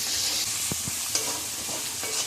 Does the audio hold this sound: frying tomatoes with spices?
yes